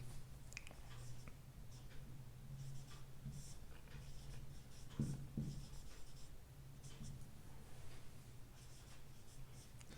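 Chalk or marker writing on a board during a mathematics lecture on differential equations, with soft intermittent scratching strokes and taps, faint against quiet room tone.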